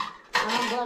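Dishes and cutlery clatter as they are washed in a home kitchen, a sudden close burst of clinking and scraping that follows a brief quieter moment.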